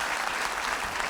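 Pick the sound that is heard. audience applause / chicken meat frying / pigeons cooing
audience applause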